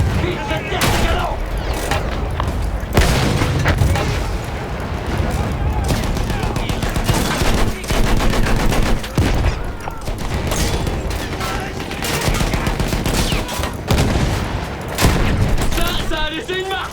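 Heavy booming cannon fire and rapid gunfire bursts crash repeatedly through a loud, dense battle soundscape in the video game Battlefield 1, with voices shouting underneath.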